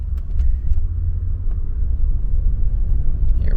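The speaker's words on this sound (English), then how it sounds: "you can definitely hear the supercharger under load" A Jaguar XJR's supercharged engine pulling hard under load, a steady loud low rumble filling the whole clip with a faint high whine riding on top and no talk.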